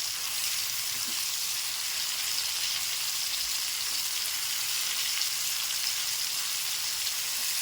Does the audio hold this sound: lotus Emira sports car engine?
no